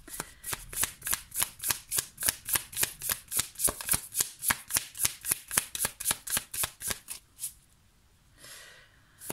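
Tarot cards are shuffled by hand for a reading in a quick, even rhythm of about two dozen close, crisp riffling strokes, then a short pause and one faint final shuffle.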